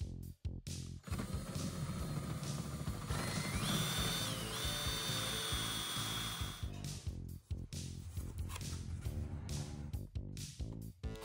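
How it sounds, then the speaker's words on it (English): A power drill bores out a hole to enlarge it in a plastic blow mold bulb, loud whirring bursts with stop-and-start grinding and clicks, close up, no talk. "I think I'll just tap this hole out bigger so it sticks through like it would in a blow mold"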